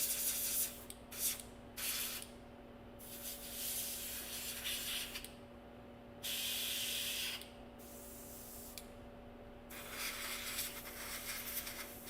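An airbrush sprays paint in a hobby session on model buildings, giving repeated bursts of airy hiss that start and stop every second or two over a steady low hum, with no voices.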